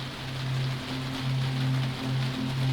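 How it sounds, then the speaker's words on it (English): Rain falling during a night train journey, a soft steady hiss of drops mixed with a low continuous hum from the rolling wheels, even and unbroken throughout. "The sound of the rain merged with the sound of the wheels"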